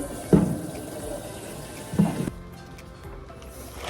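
Water runs steadily from a tap while a pet's drinking water is changed, a continuous close splashing hiss with a couple of louder clunks, then a quieter, thinner trickle after it is turned down.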